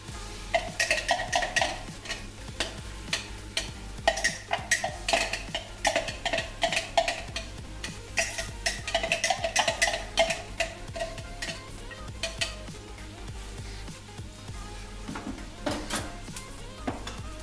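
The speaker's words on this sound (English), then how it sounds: "just sit that around, let it get a little bit of a sizzle on" Onion and garlic sizzling in a pot while a wooden spoon stirs and scrapes, giving repeated faint clicks and taps over a low steady hiss, fairly quiet and with no talk.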